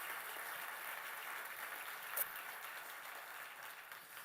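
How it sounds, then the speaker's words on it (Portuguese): Church congregation applauding during a worship service, a steady, dense patter of many hands clapping that holds evenly throughout, fairly faint and distant, with no speech over it. "mais uma salva de palmas para vocês e para o Senhor"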